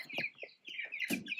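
Several meat chickens on pasture cluck and squawk close by in quick, overlapping bursts, with a louder squawk near the end.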